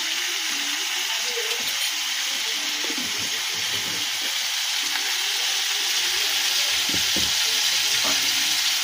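A vegetable curry of ridge gourd sizzling loudly in a pan, a dense, steady hiss throughout with faint stirring knocks and scrapes underneath.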